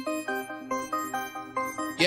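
A podcast outro jingle plays a bright, tinkling melody of evenly spaced plucked or chimed notes, steady and moderately quiet, with a brighter swell right at the end.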